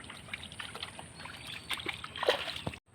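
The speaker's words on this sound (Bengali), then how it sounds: "এখন মাছগুলো ধুই বন্ধুরা" Freshly caught native magur catfish, taken from an irrigated rice paddy, being rinsed by hand in water, soft trickling and sloshing splashes that grow busier toward the end before cutting off abruptly.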